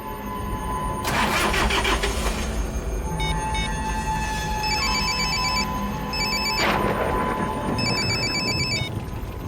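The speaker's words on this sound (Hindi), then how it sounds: "रमेश फोन क्यों नहीं उठा रहा?" An electronic phone ringtone chirps in repeated bursts, punctuated by loud whooshing engine surges, with no one speaking.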